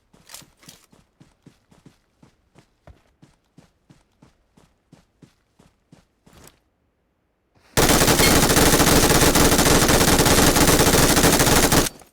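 Gunfire in the battle royale game PUBG Mobile: a steady run of single sharp shots, one after another, then a pause and a loud dense burst of continuous noise filling the end.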